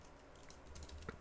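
Soft, irregular key clicks from a computer keyboard being typed on, faint and sparse with a sharper tap near the end, no voices.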